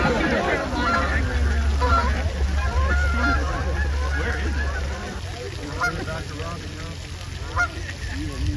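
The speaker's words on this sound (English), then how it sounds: "I see a lot of geese." A flock of geese honks repeatedly, fairly close, at a duck pond during a show day, with a murmur of people chatting in the background and a low steady rumble underneath.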